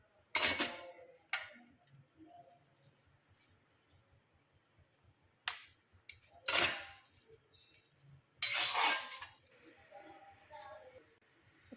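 Ripe jackfruit being stirred in a pan for chakka varattiyathu: a few loud scraping, clattering strokes with long quiet gaps between them, over a soft background hiss.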